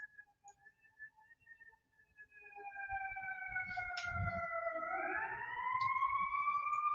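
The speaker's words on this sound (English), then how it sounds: "The sirens are back in town." A siren wails with rising, sliding tones over a low rumble, starting faint and swelling louder as it draws near.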